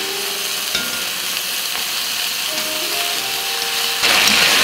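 Beef chunks searing in a hot pan for boeuf bourguignon give a steady, close sizzle and fry hiss throughout, with a few light stirring scrapes and a brighter, louder sizzle surge near the end.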